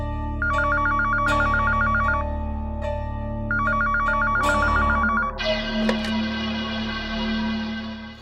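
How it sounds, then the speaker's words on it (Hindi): A telephone rings for an incoming call in a Hindi drama, two bursts of rapid electronic trilling ring tone, loud and close, followed by a shift into a sustained brighter tone, with no talking. "तब तक उसी बीच में आरुषि का फ़ोन आ जाता है प्रतिज्ञा के पास"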